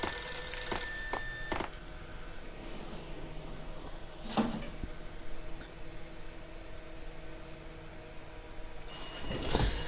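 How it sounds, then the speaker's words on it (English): An old, battered telephone rings in an apartment entrance hall in the game Max Payne, its ringing heard faintly through steady ambient room noise, with a few knocks and clatters around it. "A beaten-up phone in the entrance hall was ringing."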